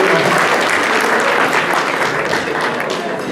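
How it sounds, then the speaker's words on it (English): Audience applause for a performer named Marianne at a Legal Aid Society event: dense, steady clapping from a sizable crowd, loud and close, filling the whole moment without speech. "It's going to be a hand clap for Marianne."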